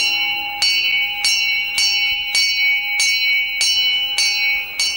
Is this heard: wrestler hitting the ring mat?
no